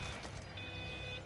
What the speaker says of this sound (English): Where'd that beep come from?